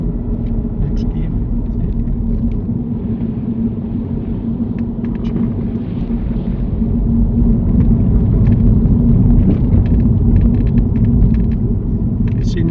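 A car's engine rumbles steadily from inside the cabin during a driving lesson near traffic lights. It grows louder partway through as the car accelerates toward the next gear, with muffled talk faintly underneath.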